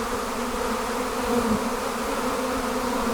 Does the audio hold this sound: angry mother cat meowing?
no